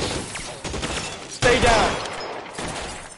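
Gunfire in the crime game L.A. Noire: a loud burst of shots near the middle over a constant rumbling background, with someone shouting briefly nearby.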